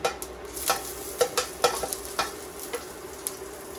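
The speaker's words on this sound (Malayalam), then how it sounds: "കാൽ സ്പൂണ് ജീരകം, കാൽ സ്പൂണ് ഉഴുന്ന്," Cumin seeds and urad dal sputtering in hot oil for a Kerala okra masala, with scattered sharp pops and crackles over a low, steady sizzle, close and moderately quiet.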